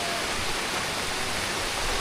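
Heavy rain with rainwater rushing into a house gives a steady, loud, dense hiss of pouring and flowing water, unbroken and close.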